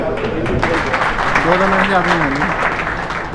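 Audience applause rings out steadily at a welcome ceremony and poetry recital held for the Delhi state party president, a dense wash of clapping that runs the whole stretch while a voice talks over it.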